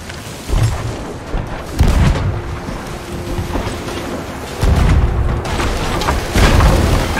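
Deep booming cannon fire from sailing warships in a naval battle game. Several heavy thuds land at uneven intervals over a constant rush of wind and ocean noise.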